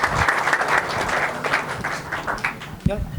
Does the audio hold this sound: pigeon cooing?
no